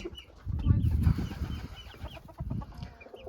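Several chickens cluck and murmur close by in short, uneven bursts.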